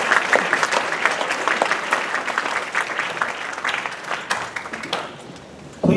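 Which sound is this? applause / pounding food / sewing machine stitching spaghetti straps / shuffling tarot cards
applause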